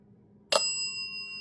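A single bicycle-style bell is struck once beside a spirit app, a sharp bright ding that rings on with a clear sustained tone while the room stays quiet otherwise.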